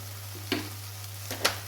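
Chili powder and coriander powder for a chickpea tamarind kuzhambu sizzle in hot oil with a steady crackle, broken by a few sharp scrapes of stirring, under a constant low hum.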